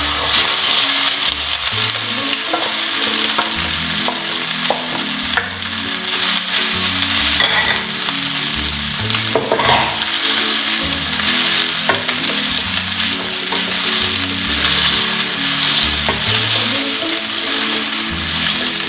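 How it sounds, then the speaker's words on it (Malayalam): Vermicelli stir-fried with vegetables in a pan for semiya upma, a steady sizzle and frying hiss with scraping stirs, close and continuous, under background music and without talk. "ഇനി നമുക്കിതിലേക്ക് സേമിയ ആഡ് ചെയ്യാം"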